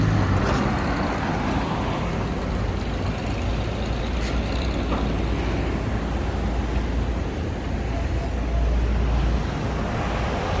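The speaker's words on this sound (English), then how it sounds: "So here the bus is jumping into the lane." A city bus pulls into a dedicated bus lane amid heavy traffic, a steady low diesel rumble and roadway noise filling the scene with a brief hiss near the start.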